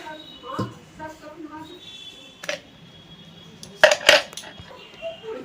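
Rice flour and wheat flour being worked together in a bowl with a ladle: scattered soft scrapes and light clinks, then a sharper cluster of metallic knocks near the end, with a voice speaking intermittently.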